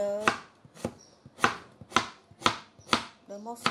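Celery is chopped with a small knife on a board, seven sharp, evenly spaced cuts, close and clear, with brief bits of voice in between.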